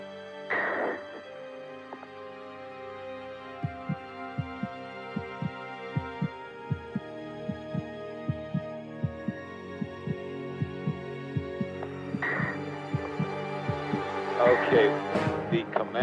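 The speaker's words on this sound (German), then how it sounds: "Die Astronauten bekommen solches Herzrasen," A racing heartbeat standing in for astronauts' pounding pulse, quick regular thumps repeating steadily under a low hum and sustained tones, with a brief swell at the start and another near the end.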